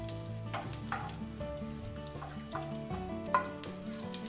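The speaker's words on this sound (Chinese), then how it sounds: "同样的油我们放入酱鱼仔，然后也是用中小火不停的翻炒" Anchovies stir-fried in oil over medium-low heat, giving a steady sizzle with a few stirring scrapes, heard under background music.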